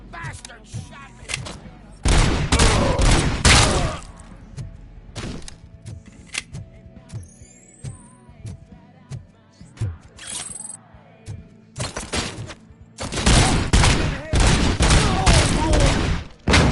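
Loud bursts of gunfire in the RoboCop: Rogue City video game come in heavy volleys at the start and end, with sharp single shots, thuds and shouting voices in the quieter stretch between.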